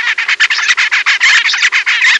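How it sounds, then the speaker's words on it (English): A young zebra finch gives a rapid, steady run of bright chirps, a dozen or more short bursts packed closely together at close range with no other sound around them. "Zebra finches begin their vocal training with indiscriminate chirping"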